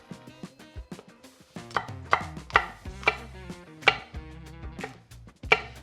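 Sweet peppers are chopped with a knife on a cutting board in a quick, uneven run of close, crisp strikes, some clustered and some spaced apart.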